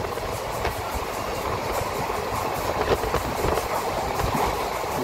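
Pinakini Super Fast Express running at speed between Vijayawada and Chennai, a steady broadband rumble with faint rhythmic rail clatter heard from on board, no voices.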